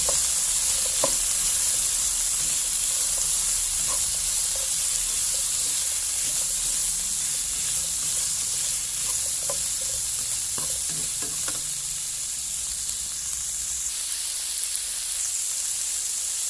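Pork and chili are stir-fried in a hot pan with potato starch, a steady close sizzle and hiss broken by scattered scraping stirs and clinks of the utensil, with no talk.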